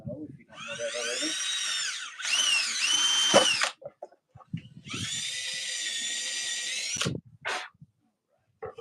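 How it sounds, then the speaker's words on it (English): A power drill bores holes through wood while building a wooden box, giving three long whining runs with a rising pitch as the bit cuts through, separated by short pauses, loud and close. "when this first drill bit goes through"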